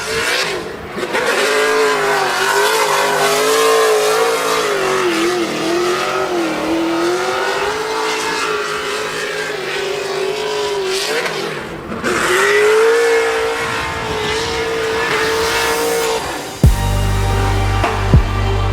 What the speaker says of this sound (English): Josiah Felice giving us a nice taste of his run here for his bye run.